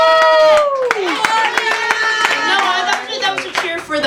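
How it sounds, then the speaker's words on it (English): Audience at an open mic night claps and cheers, a burst of applause with whoops that fades over a few seconds, loud and close with crowd voices mixed in. "That was a cheer for the open mic, not for me."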